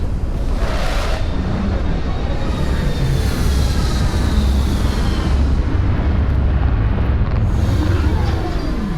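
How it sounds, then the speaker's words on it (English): Spaceship retro thrusters firing during a landing in Starfield: a loud, continuous broadband roar with a deep rumbling low end, steady throughout with no talk over it. "Landing struts primed, retros firing."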